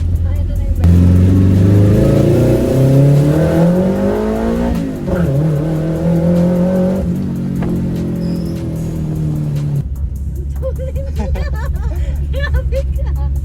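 Toyota 4AGE engine swapped into a Tamiya owner-type jeep revs hard on blacktop, loud rising and falling engine notes with a brief tire squeal, then idling, close with a voice talking over it.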